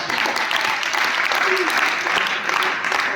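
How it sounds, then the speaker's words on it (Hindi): An audience at an NSS speech event claps steadily for Aman, a sustained wash of applause with a voice faintly under it. "तालियां एक बार अमन के लिए।"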